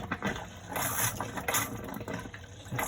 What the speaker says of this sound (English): so it's now coming bringing out some nice hot water.